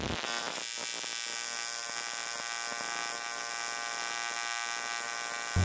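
An HTP Invertig 221 TIG welder lays an aluminum weave bead, giving a steady, continuous electric buzz with a fine crackle and constant loudness for several seconds, with no talking.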